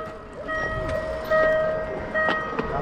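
Passing train, a loud, steady rumble of rail wagons with sustained horn-like tones and occasional clanks, close by and continuous throughout.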